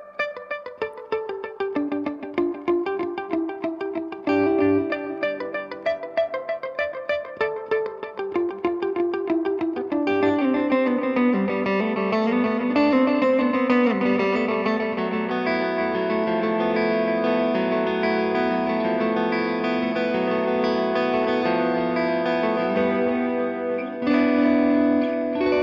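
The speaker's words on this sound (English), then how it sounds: "So here's it with the reverb turned up too, so you can guys hear it kind of swimming in that" A guitar runs through a Boss RE-202 Space Echo pedal with reverb turned up, picked notes and chords trailing into repeating echoes and a washy, swimming tail that builds and sustains throughout.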